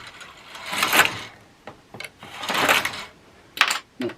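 A knitting machine knits rows with wire, the carriage making two loud mechanical sweeps with a rasping clatter, followed by short sharp clicks and knocks, close and with no voices.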